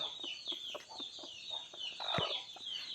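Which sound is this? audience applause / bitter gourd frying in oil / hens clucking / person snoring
hens clucking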